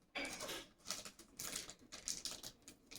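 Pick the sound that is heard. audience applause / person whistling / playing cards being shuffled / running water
playing cards being shuffled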